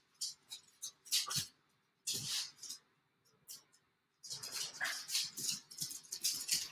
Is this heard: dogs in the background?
yes